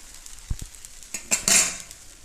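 A Goan tandha pole rice pancake flipped on a hot pan: a couple of soft knocks, then a quick scrape of the spatula and a brief rising sizzle as it lands, close and quiet, with no voices.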